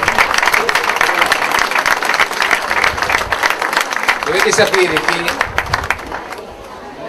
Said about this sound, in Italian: che merita un applauso.